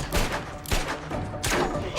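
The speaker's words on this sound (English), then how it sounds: "Shooting at a motel is crazy, Olivia." Gunfire in a motel scene from the TV drama Fringe, with several loud, rough bursts of shots spaced across two seconds, sounding like a volley or fusillade under a busy mix.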